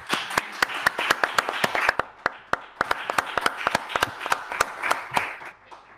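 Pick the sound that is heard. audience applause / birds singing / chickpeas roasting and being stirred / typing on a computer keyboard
audience applause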